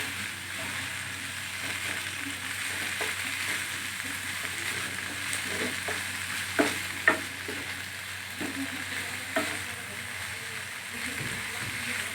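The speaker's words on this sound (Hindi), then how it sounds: "अच्छी तरह से फ्राई कर लेंगे।" Chicken samosa stuffing frying and being stirred in a pan, a steady close sizzle broken by scattered scrapes and clacks of a utensil, with a few sharper knocks partway through.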